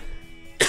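A single short cough from someone with allergies, close and fairly loud, coming after a quiet stretch of low room sound.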